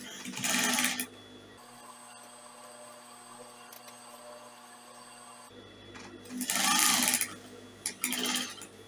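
A sewing machine top stitches a fabric sleeve in two short close bursts of fast whirring, separated by a few seconds of quiet room hum, with no talking.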